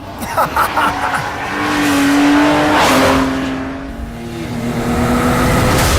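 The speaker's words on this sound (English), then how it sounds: "I don't know, this sounds like a fast car." A BMW 340i M Sport with Track Pack, a 320-horsepower car on a hot lap, its engine rising and holding in steady sweeping pitch with a brief tire squeal, heard loud and continuous.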